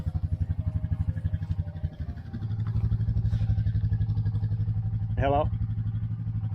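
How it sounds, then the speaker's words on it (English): A Honda 200 three-wheeler, Big Red, idling with a loud, close, pulsing single-cylinder chug that speeds into a smoother steady throb, while someone speaks briefly. "I'm pulling the three-wheeler out of the shed right now"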